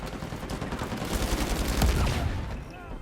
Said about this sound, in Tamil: சுட்டானுங்க